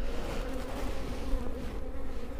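A dense, steady hum of honey bees fills a beehive that has been split in two, the buzzing close and unbroken throughout, with no voices.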